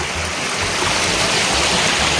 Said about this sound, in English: The water just flows over these rocks